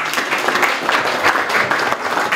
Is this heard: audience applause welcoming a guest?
yes